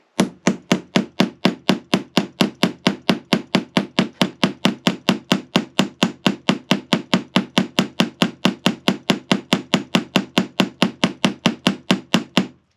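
Rapid, steady metal hammering with an HMR-7 hammer fitted with a Fretz HTX texture insert, striking a metal workpiece dozens of times in an even, quick rhythm, each blow close and sharp with no talk.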